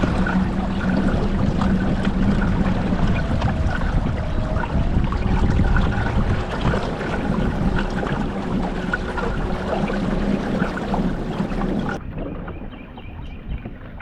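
A Bonafide P127 kayak fitted with an NK180 motor runs across open water, a steady close droning hum mixed with water rush and wind buffeting the microphone, continuous throughout without speech.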